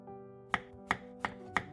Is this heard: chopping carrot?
yes